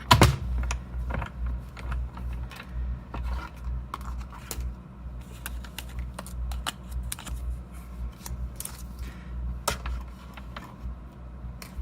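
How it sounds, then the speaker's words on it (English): Stacked plates and paper rolled through a cut and emboss machine produce a steady series of close clicks and ticks over a low rumbling base, with a heavier thump at the start. "And I'm going to roll it through my cut and emboss machine."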